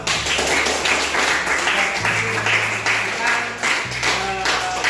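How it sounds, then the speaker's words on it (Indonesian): A class of students clapping their hands together in a classroom, a steady patter of claps with a low hum and brief voices underneath. "tepuk tangan untuk kita semua"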